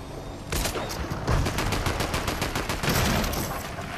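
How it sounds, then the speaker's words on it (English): Machine gun fire in a video game: a loud, close burst of rapid rattling shots that starts abruptly and runs continuously to the end, with no talk over it. "There's a machine gun for you."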